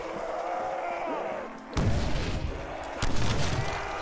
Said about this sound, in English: I'll just throw a couple nades here.